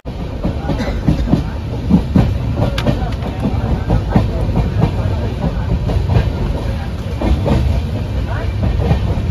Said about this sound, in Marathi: ऑन टाइम आपली ट्रेन पोहोचली आहे